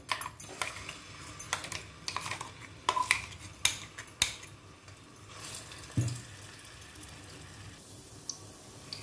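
Ground masala paste with sesame being sautéed in hot oil in a pan over low heat for bhogichi bhaji, heard mostly as irregular metal spoon scrapes and clinks against the pan above a faint sizzle.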